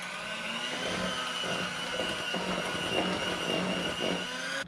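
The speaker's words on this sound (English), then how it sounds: "We're going to mix this on medium-high until there's no more streaks in this peanut butter." An electric mixer whirs steadily on medium-high, creaming softened butter and peanut butter for a crazy cake batter, a continuous motor hum with slight fluctuations and no talking.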